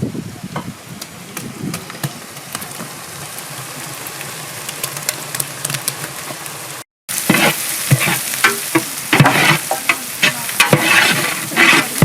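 Garlic paste sizzles and fries in a hot pan at a Dharwad egg rice stall, with scraping stir strokes throughout; a brief gap midway, then louder, busier frying and stirring resumes.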